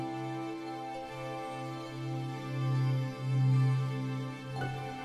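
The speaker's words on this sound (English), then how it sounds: "what you're hearing right now is the sound of a huge Moshi rainbow." A huge rainbow in a children's bedtime story world rendered as a soft, steady synthetic drone with a low swelling hum and shimmering sustained overtones, calm and even throughout with no voices.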